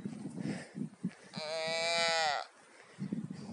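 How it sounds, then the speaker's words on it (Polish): A young lamb on a sheep farm gives a sustained, wavering bleat lasting about a second, preceded and followed by scattered soft animal movement and low murmurs nearby. "A on jest tak cicho beczy"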